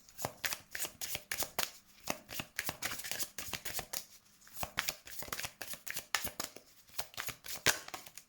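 Tarot cards shuffled by hand in quick repeated bursts of crisp riffling and slapping, close and quiet, keeping a fairly regular rhythm throughout with no talking.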